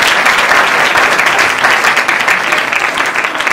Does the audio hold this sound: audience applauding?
yes